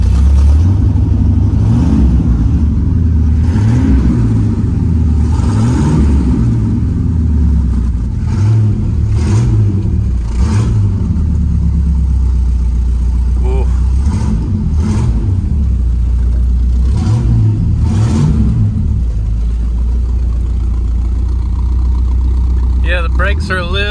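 A 1972 Camaro resto-mod V8 idles loudly up close while warming up, with several throaty revs rising and falling over a deep rumbling idle, and a voice talking briefly near the end.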